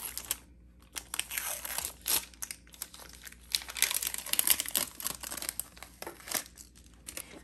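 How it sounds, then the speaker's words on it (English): Butcher paper being peeled and crinkled off a hat after an Infusible Ink design was heat pressed with a Cricut hat press, close-up bursts of papery crackling and tearing over a quiet background. "start removing the butcher paper, and then we're gonna remove the design"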